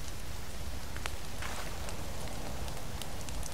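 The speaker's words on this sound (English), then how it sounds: "Probably because it's chucking it down with rain." Heavy rain pours down constantly in the survival video game The Forest, a dense, even hiss with faint scattered drop patters and no voices.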